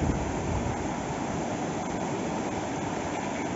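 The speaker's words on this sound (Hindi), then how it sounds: "साफ सुथरा और अच्छा तेज बहाव है पानी का" Strong, clear water rushing in a stream at the small mountain lake of Chota Mahodand in Trout Valley, a steady, dense broadband wash that sounds close and continuous, mixed with some wind, with no voices.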